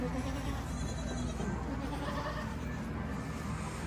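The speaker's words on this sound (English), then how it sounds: "Whopper and Maverick are both weathered goats, so they've been castrated." Goats in a farm herd bleat, including castrated wethers, heard as a continuous mass of animal noise close by, with people talking in the clip.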